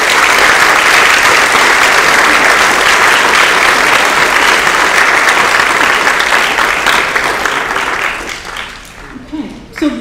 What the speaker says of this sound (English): Can we please give all of our coaches sitting on the stage a round of applause?